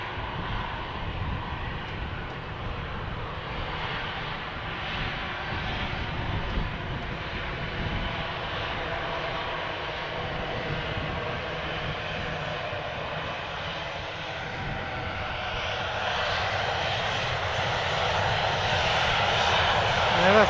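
A WestJet airliner at Edmonton International Airport, its engine roar steady and moderately distant, swelling gradually louder toward the end.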